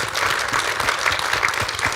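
An audience at a talk on interpreting American art claps steadily in a dense, even round of applause filling the room throughout.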